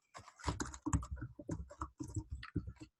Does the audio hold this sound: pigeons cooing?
no